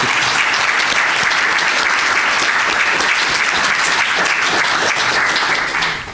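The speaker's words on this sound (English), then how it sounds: "I've never asked people to clap when I'm standing here, but can I please ask you" Sustained, loud audience applause fills an inaugural lecture hall for a music professor at Wits University, a dense steady wash of many hands clapping that tapers slightly at the very end.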